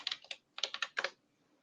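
Password typed on a computer keyboard: two quick bursts of close, crisp key clicks, about nine taps in all, then quiet.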